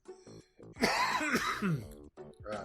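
A person clears their throat and gives a rough cough between bits of speech, close to the microphone.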